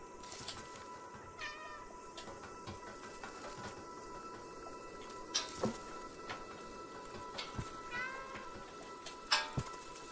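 A cat meows repeatedly in the video game Stray, four or so short, clear calls spread across a steady, low ambient game background.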